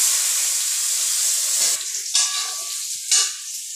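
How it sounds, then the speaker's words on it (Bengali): Red and white potatoes tipped into hot oil in a pan after frying lentil dumplings, a broad steady sizzle that swells in a few louder bursts as pieces land and are turned, close and without speech. "এবার লাল আলু আর আলুটা দিয়ে দেবো।"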